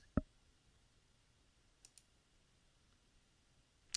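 A computer mouse is right-clicked in Excel to add a trend line: a single sharp, close click, then two quicker faint clicks and another crisp click at the end, with a quiet room hiss and no speech.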